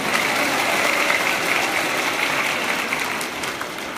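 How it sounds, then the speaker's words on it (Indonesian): A large audience applauds for Dani at a religious talk by Yusuf Mansur, a steady dense wash of clapping throughout that eases slightly toward the end, with no speech. "Kasih tepuk tangan buat Dani."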